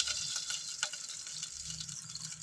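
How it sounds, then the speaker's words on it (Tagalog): Broth poured into a pot of sotanghon soup hisses and sizzles steadily, a bright crackling wash with faint stirring underneath. "Tapos, magdadagdag po tayo ng sabaw."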